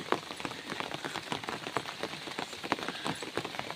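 Steady rain pattering on a surface in the Maredumilli forest, a dense continuous patter of drops with no voices.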